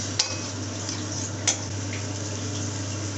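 Mint and coriander paste stirred in hot oil in a pan, giving a steady soft sizzling hiss broken by two brief utensil clicks against the pan.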